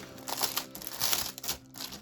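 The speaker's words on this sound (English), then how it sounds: "Let's get rid of the horrible crinkly plastic." Crinkly plastic wrapping is pulled off a diamond painting storage case, giving a close, continuous crackle and rustle with bursts of louder crinkling throughout, and no voices.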